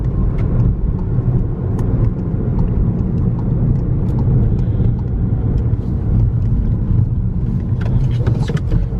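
A Volkswagen GTI Rabbit Edition drives through Austin, Texas, its engine and road noise forming a steady, loud, continuous rumble throughout with no talking.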